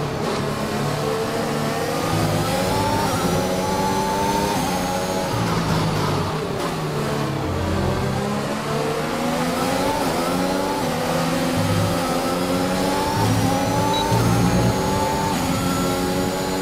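Formula 1 car engine in the F1 2021 racing game, pulling out of the pit lane at Portimão, with a continuous loud whine that rises and falls as the revs change through the gears.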